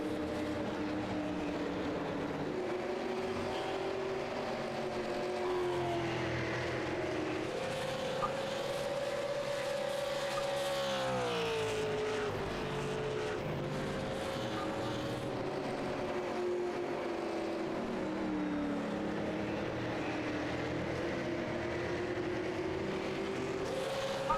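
Super Late Model race cars lapping the Milwaukee Mile, a sustained loud engine drone that rises and falls in pitch as cars pass, with faint speech mixed in underneath.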